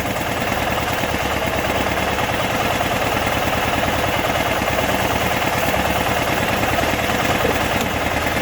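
A Kohler Command Pro small engine idles at low RPM, a steady close, even mechanical drone with a throbbing low pulse and no pauses throughout.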